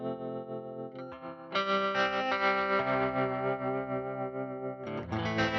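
A sustained electric guitar chord through a Digitech TR-7 stereo modulation pedal and a light overdrive shimmers with a wide, swirling modulation, then a fuller strummed chord rings out and a fresh strum enters near the end.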